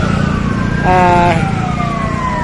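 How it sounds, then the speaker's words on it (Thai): Fire engine sirens wail loud and close as several trucks arrive at a building fire on Phraeksa Road in Samut Prakan, Thailand, with a rising whoop over steady traffic and engine rumble. "ตอนนี้รถดับเพลิงก็มาหลายคันนะครับสามคันสี่คันแล้วนะครับรถดับเพลิงครั บ"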